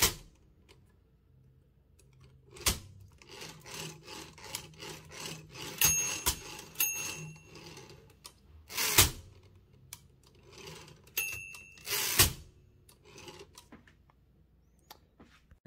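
Torpedo 18B manual typewriter carriage returned without the silent-return feature, giving a series of rubbing, ratcheting clicks with sharp loud clacks and a bell ding, close up with no talking.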